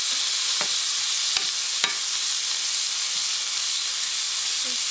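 Egg roll filling frying in a pan with soy sauce, a loud continuous sizzle and hiss close up, broken by a few brief stirring scrapes.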